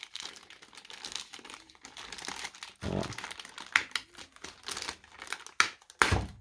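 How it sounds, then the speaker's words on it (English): Sticker peeled off a Gigabyte H310M S2H micro ATX motherboard, giving crinkly, crackling paper and plastic noises in uneven bursts, close and fairly quiet, with a few sharper rips. "let's remove a sticker"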